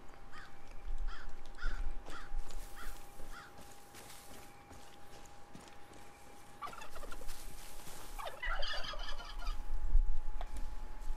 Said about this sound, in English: Damn turkeys.